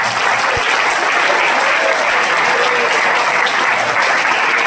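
A hall full of students and staff at a high school meditation class applauding, dense loud continuous clapping close by for the whole stretch.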